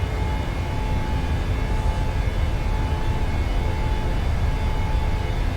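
An airplane rolls down the runway for takeoff from Havana, Cuba, with a loud, steady roar of engines and rumbling, heard from inside and continuous throughout, with no talking.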